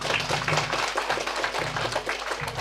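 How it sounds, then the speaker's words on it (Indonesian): Applause for a cooperative chairman at a cooperative annual meeting: a steady patter of many hands clapping together, dense and continuous for a few seconds in a room. "Tepuk tangan dulu apresiasi buat ketua"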